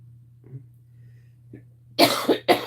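A person lets out three quick, harsh coughs in close succession near the end, after a hushed stretch with only faint breaths and a low hum.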